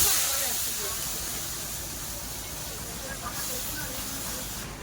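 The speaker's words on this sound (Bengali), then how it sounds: "পটল গুলা দিচ্ছি এবার পটলগুলো ভেজে নেবো" Pointed gourd (potol) frying in oil makes a steady, close, broadband hiss and sizzle that fades slightly over five seconds.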